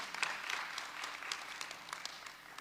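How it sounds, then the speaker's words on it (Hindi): An audience at a children's poetry gathering in Ayodhya applauds, a steady patter of many hands clapping at a distance, fairly faint and even throughout. "तालियों से अभिनंदन करें"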